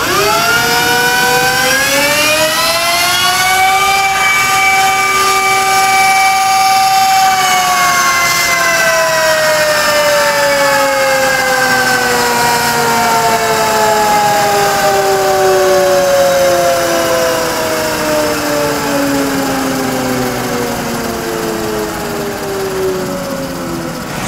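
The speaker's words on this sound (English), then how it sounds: "So we made it as a dyno, which is actually with a motorized system" An Ultraviolette electric motorcycle runs on a motorized dyno test rig inside the EV factory. A loud, steady electric whine climbs in pitch, holds, then slowly winds down over about twenty seconds.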